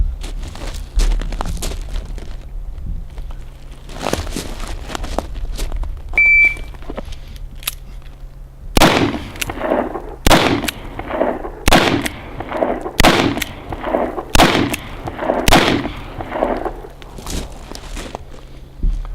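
Handgun shots during a timed shooting drill, about nine sharp, loud cracks in a quick irregular string, after some faint shuffling and handling noises.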